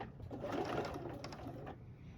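Sewing machine back stitching briefly to secure the end of a quilt binding, a steady close mechanical whir running through the whole short stretch with no talk.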